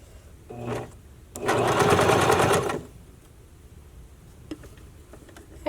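A sewing machine stitches channeling onto a bra in one short, fast burst of rapid needle clatter, with a brief lighter run of stitching just before it and quiet handling sounds afterward.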